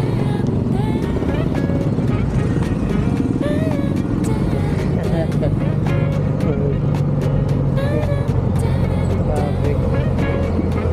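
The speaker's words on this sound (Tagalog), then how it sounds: "Traffic." Road traffic in Taguig passes during a bike ride, a continuous rumble of car and motorcycle engines close by with a few sharp clicks, while a rider talks over it.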